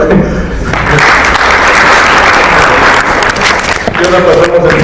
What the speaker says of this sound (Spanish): También damos un aplauso.